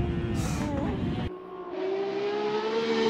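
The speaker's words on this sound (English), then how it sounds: "it had the V12 engine from the Formula 1 car from the year before" Ferrari F50 with a V12 engine derived from a Formula 1 car, driven in the Assetto Corsa racing game: a loud, high-pitched engine rises in revs, drops off abruptly, then settles into a steady whining drone.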